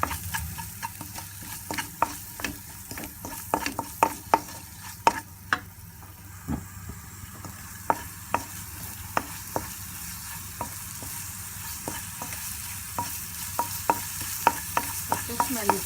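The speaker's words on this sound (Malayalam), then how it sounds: "പൊടികളിട്ടിട്ട് നല്ലോണം മിക്സ് ചെയ്യാം." Mutton brain frying in a pan with spice powders, a steady sizzle under rapid, regular scraping taps of a spatula stirring and mixing, close and continuous.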